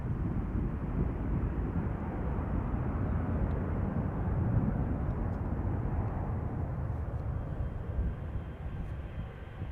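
An Airbus A330 airliner lining up on runway 36L at Amsterdam Schiphol Airport, its engines giving a steady, loud, broad roar that holds evenly throughout with no talk.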